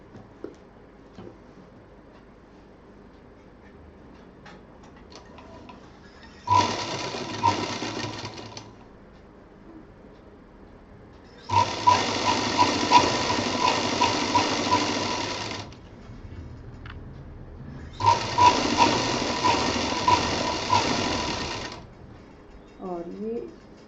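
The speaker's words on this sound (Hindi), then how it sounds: "और नीचे का जो सेंटर है यहाँ से सिलना शुरू करेंगे" Sewing machine stitching a DIY fabric bag, running in three distinct bursts of steady whirring, each several seconds long, separated by quiet pauses with faint handling noises.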